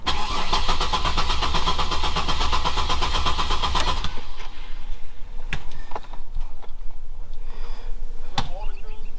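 A 2003 Chevrolet Monte Carlo SS with a weak battery cranks in a loud, rapid rhythmic churn for about four seconds, then catches and settles into a lower idle with some clicks and rattles, heard up close.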